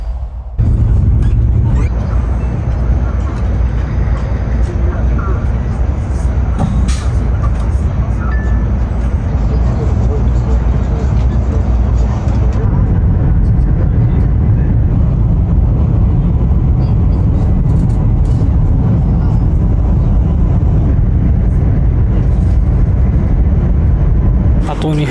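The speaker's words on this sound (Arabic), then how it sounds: "قطار طيران الإمارات." Interior ride on a moving Chinese passenger train: a steady, loud rumble of wheels and carriage noise runs continuously, with occasional faint clinks and rattles from inside the car.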